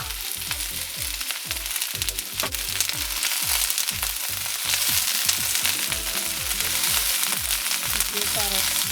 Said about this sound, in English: carrots and snow peas into the pot. Give it a stir. And add the cabbage.